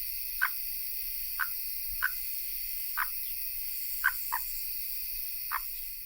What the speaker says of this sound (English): Check out this ambient soundscape he made for the nighttime section of Chapter 1.